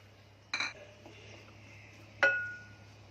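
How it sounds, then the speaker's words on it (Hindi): Pineapple pieces are dropped into a metal cooking pot for a pineapple halwa, giving two separate clinking metallic hits about two seconds apart over a quiet kitchen hum, with no talking. "ये मैंने बर्तन रखी हूँ, उसमें पहले डाल रही हूँ अपना पाइनएप्पल।"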